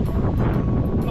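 Southerly wind sweeps across an open campsite at NEOS Outdoor Park Nanjo in Okinawa. It makes a steady, close, broadband rush and buffeting rumble on the microphone throughout, with no distinct gusts.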